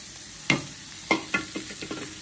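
Cumin, ginger and onion hit hot oil for an onion chutney, giving a few sharp sizzling bursts and stirring scrapes, one strong burst followed by several smaller ones fading off, close and moderately loud with no talk.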